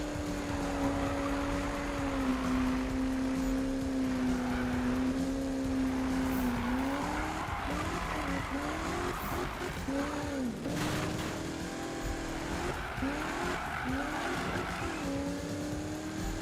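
A race car in Need for Speed 2015 drives at speed with a steady, loud engine whine that rises and dips with shifts, punctuated later by tire squeals and skids as another car passes close.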